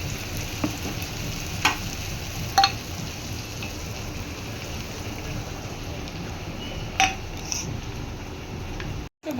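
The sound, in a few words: spices and meat being sautéed in a pan for mince curry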